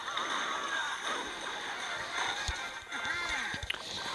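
A battle ram charges in the mobile game Clash Royale with galloping hoof-like thuds and game effects, over busy music, with tonal sweeps and sharp impacts.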